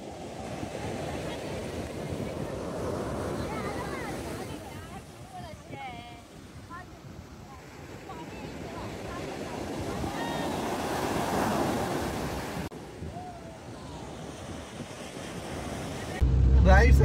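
Waves wash onto a beach in Dubai, a steady, fairly loud surf roar with wind buffeting the microphone and a sharp gust near the end.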